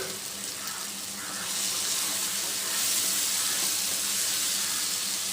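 Shallots and green chillies fry in oil for a prawn gravy. A steady, hissing sizzle grows slightly louder as it goes on, with no talk.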